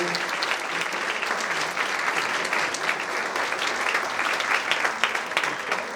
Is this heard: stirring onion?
no